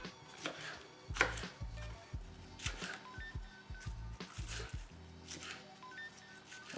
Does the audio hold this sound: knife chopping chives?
yes